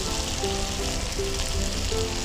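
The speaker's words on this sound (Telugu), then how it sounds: "పన్నీర్ కూడా ఫ్రై చేస్తున్నాము" Paneer fries in a pan with a steady, dense sizzle that holds even throughout, close and continuous, with no voices.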